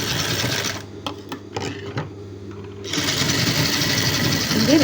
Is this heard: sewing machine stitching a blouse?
yes